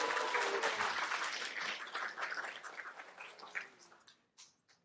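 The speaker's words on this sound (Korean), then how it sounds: "박수 한번 쳐주셔야 되는 거 아니에요?" A lecture audience at a televised talk bursts into full applause that gradually thins out and dies away to a few scattered claps.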